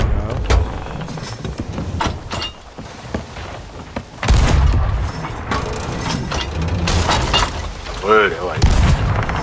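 Ship cannons fire in the pirate game Sea of Thieves, with several loud, sharp booms at irregular intervals amid rumbling game noise, while people talk over the action.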